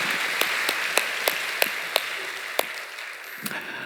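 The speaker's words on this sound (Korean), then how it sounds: "우리 중학생들, 우리 중동부를 위해서 한번 박수 칩시다." Scattered clapping from a church congregation at a Korean Friday night worship service honouring the middle school department, with a handful of sharp distinct claps over a soft background wash, thinning toward the end.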